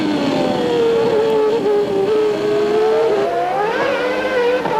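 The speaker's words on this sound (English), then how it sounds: "Now you're on board the Ferrari. This is Jean Alesi's machine" Onboard Jean Alesi's Ferrari Formula 1 car racing in the 1994 Spanish Grand Prix, the engine screaming loud and close in a steady high whine, pitch sagging slightly and then climbing again as it revs.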